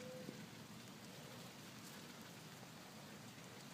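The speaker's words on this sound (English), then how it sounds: "it's starting to rain here pretty good" Rain falls steadily on a tomato garden with brandywine plants, a faint, even hiss of drops with no talking.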